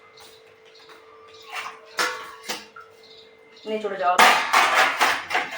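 Dirty pots and utensils are rinsed under water in a home kitchen, with clanks of metal and rushing splashes swelling toward the end, while someone talks over the clatter.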